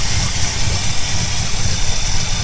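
A Ford Falcon engine idles steadily at close range while warming up, a loud continuous low rumble with even vibration and no voices.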